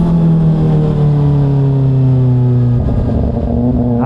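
Kawasaki ZX6R sport bike engine on a freeway, a loud steady high-pitched drone whose pitch slides slightly downward, then a stepped change near the end as it shifts down and the revs rise again.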